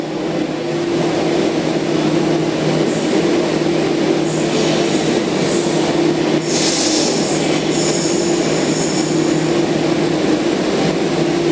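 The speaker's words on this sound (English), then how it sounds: "They're now departing platform number 2 for Kiama." A Sydney suburban train pulls away from the platform with a loud, steady rumble of wheels on rail and a sustained engine hum, while high-pitched wheel squeals flare up partway through.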